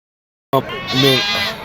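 After a moment of silence, a single sheep at a livestock market in Atpadi lets out a long, wavering bleat, loud and close, holding for over a second.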